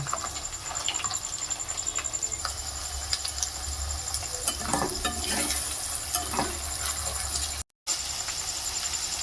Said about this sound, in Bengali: এবার এই কড়ার মধ্যে আমি কুচনো গাজর, কুচনো ক্যাপসিকাম আর কুচনো বিনস একসঙ্গে দিয়ে দেবো।